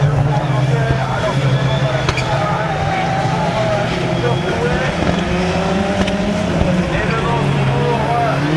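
Renault Clio rallycross cars racing at the Lessay rallycross, engines droning steadily at a distance throughout, with a commentator talking over the continuous motor noise.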